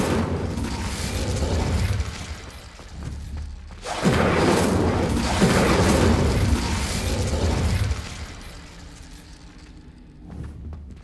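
Incendio fire spell cast in Hogwarts Legacy, a loud whooshing blast that surges around the fourth second and roars on with crackling bursts before fading, with a few softer impacts near the end.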